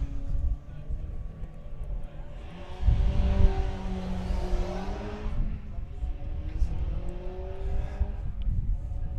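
A drag racing car launches down the strip at a Springspeed Nationals event, its engine roar rising sharply and swelling loud before fading off into distance, with a commentator talking over the noise throughout.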